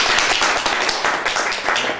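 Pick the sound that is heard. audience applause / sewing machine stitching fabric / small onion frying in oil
audience applause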